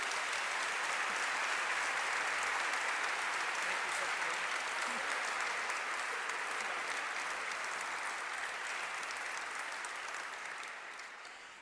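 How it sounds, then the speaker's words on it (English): Sustained applause for a line of U.S. senators at a drone integration pilot program event, a dense, steady clapping crowd that holds for about ten seconds before tapering slightly at the end. "Let's give them a great round of applause."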